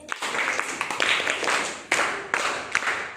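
An audience claps together at a school prayer and poem activity, a dense burst of applause with a few sharp louder hand strikes standing out, close and fairly loud, with no talking over it.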